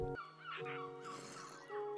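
Birds cawing in Minecraft, in a jungle temple setting: a few harsh, close caws following one another with short gaps between calls.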